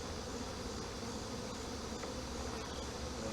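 Honeybees buzzing steadily in an open beehive during a pre-winter inspection, a dense continuous drone of many insects close by with no voices.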